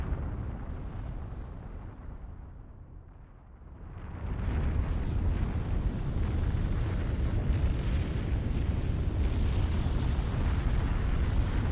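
Rumbling, roaring eruption noise evoking an explosive volcanic eruption at Hokkaido Komagatake, a stratovolcano, dipping briefly, then surging into a continuous loud roar of crackling bursts with no voices.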